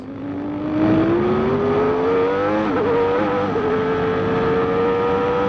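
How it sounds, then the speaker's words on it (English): Formula 1 car at the 1993 Brazilian Grand Prix, engine screaming loud and close with a rising pitch broken by quick gear changes, the note dipping and climbing again, no talk over it. "Listen to his gear changes."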